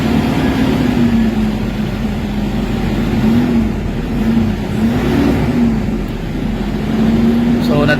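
Toyota Hilux engine with low power and throttle delay running steadily at raised RPM, a continuous mid-pitched drone with slight rises in revs, close and loud throughout.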